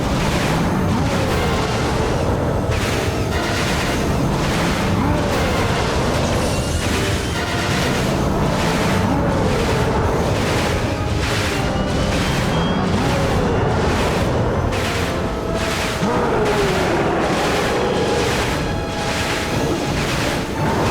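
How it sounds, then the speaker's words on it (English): Blasters in the game Dragon Quest Builders 2 fire at the Master of Destruction in a loud, rapid series of booming shots, evenly repeated over a dense roaring battle din. "When you see an opening, fire the blasters."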